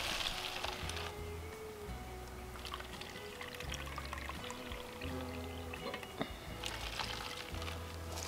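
Warm water being poured into a container to dissolve nitrate crystals for nitrating paper, a soft continuous trickling and splashing stream with small bubbling sounds, close and moderately quiet, with no talking.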